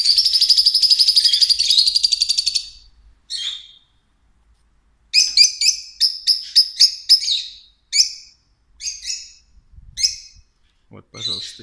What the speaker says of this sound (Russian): Попугайчики. Самые разные.